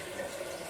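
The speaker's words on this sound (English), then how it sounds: "Fill up the pitcher with cold water. Only use cold water when doing this." Cold tap water runs steadily into a pitcher, a short, soft, even gush of flowing water close by.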